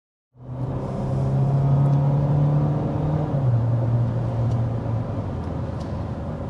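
A 2025 Toyota Camry XSE hybrid sedan accelerates up to speed, its steady engine drone rising in a smooth tone that shifts once midway, heard close from inside the cabin with no talking.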